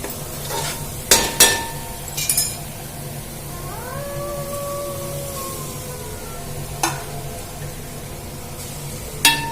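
Cooked rice is stirred into a tomato mixture in a pan, with soft scraping and shuffling close up, a few sharp utensil knocks against the pan, and a faint sizzle underneath.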